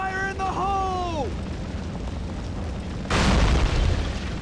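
A grenade blows up in Call of Duty 3 with a sudden loud, broad boom that follows a stretch of battle noise and a shouted voice, then roars on as heavy rumbling.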